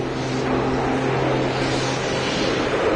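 A Qatar airliner on its takeoff run at Boston Logan Airport, heard as a loud, steady broadband jet roar with a low drone holding throughout, fairly close and without voices.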